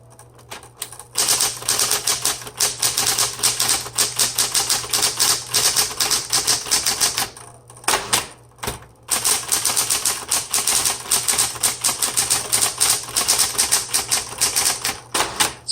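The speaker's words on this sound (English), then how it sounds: "Let's go ahead and keep typing." Typing on a 1970s Smith Corona Electra 210 electric typewriter: rapid, loud keystrokes clack in fast bursts over a constant motor hum, with a couple of brief pauses.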